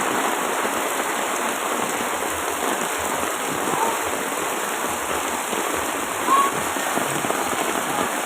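Steady heavy rain pours down, a dense continuous hiss of water on surfaces with no pauses, fairly close and even throughout.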